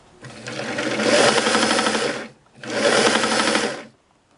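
A vintage Singer sewing machine, dry and in need of oiling, runs in two bursts of about two seconds each, a close, steady mechanical whir with a short pause between them.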